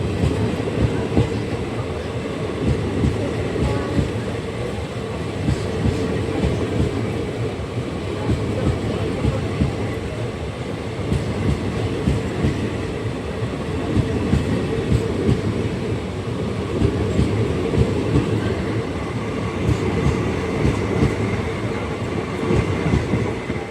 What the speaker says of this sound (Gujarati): ભાવનગર પરા રેલવે સ્ટેશનમાં ટ્રેન એન્ટર થાય છે.